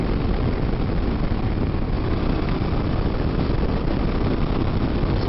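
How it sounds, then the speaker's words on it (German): Constant roaring wind noise buffets the rider of a KTM 1290 Super Adventure S motorcycle at speed, loud and steady throughout with no gaps. "Also die Windgeräusche sind echt ziemlich laut"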